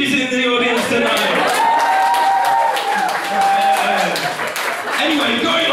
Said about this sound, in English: I give a round of applause to my lovely auntie who's in the audience tonight.